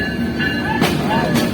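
A train at Jessore railway station rumbles and clatters nearby, with a steady loud roar and a couple of sharper bursts from the passing carriages.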